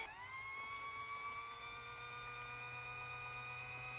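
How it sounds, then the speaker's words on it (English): A 5 Minute Clean Plus Dry makeup brush cleaner spins makeup brushes with a steady, close electric motor whine that rises briefly at the start and then holds an even pitch until it cuts off at the end. "it will spin for a second and stop spinning and then spin for another"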